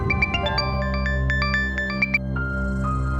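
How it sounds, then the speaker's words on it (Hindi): An electronic phone ringtone plays a quick melodic pattern of bright beeping tones over a steady background hum, with no voices. "अब जाके देखे किसका फोन बज रहा है।"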